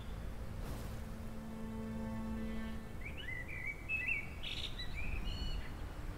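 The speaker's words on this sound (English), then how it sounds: "I'm hearing birds again" Birds chirp and trill in a short burst of calls in Pantheon: Rise of the Fallen, rising over a steady wind-like ambient rush, moderately near and clear in the middle of the scene.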